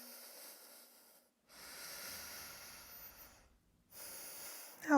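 Deep breaths during a beginner yoga class focused on leg strength, two long airy inhales or exhales separated by brief silences, close and fairly quiet.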